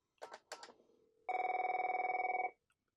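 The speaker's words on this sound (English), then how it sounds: "But I'm going to call this phone." A landline telephone in a home telecom setup rings with one long, loud electronic burst lasting about a second. A few short knocks or taps come just before it.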